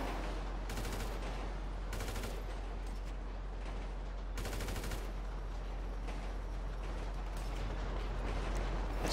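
Sniper rifle gunfire in the video game GTA Online, several sharp, loud cracks spaced a second or two apart over a steady low game hum, with no talking.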